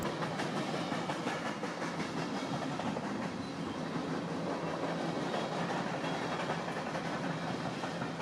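A Union Pacific freight train rolls along the tracks near wetland gardens in Albany, Oregon, a steady broadband rumble with faint rhythmic clatter, moderately distant and continuous throughout, with no voices.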